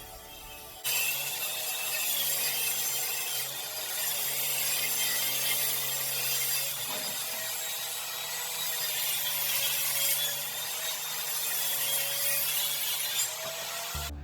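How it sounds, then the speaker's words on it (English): Miter saw cutting a wooden face frame piece for a TV stand build, a sustained, fairly close grinding whine that runs steadily for over twelve seconds before cutting off. "I'm just gonna cut it with the miter saw"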